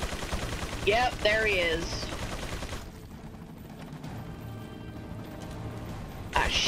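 Rapid gunfire from an enemy soldier in the Resident Evil 4 video game crackles in repeated bursts, mixed with game music and effects, while someone speaks briefly.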